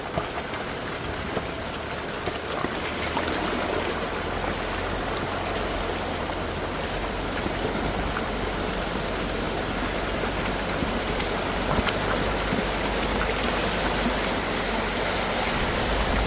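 Steady broadband rush of river water flowing along a flood-damaged off-road trail at Windrock, constant and close with no voices.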